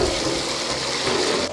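Water pours steadily into a pot holding a whole beef shank for bulalo, a continuous loud gushing splash that lasts throughout, with no talking.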